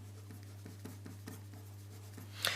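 A pen scratches quickly across paper, writing out the SOHCAHTOA mnemonic in a series of short, soft strokes, ending with a brief louder scrape, close up over a steady low hum.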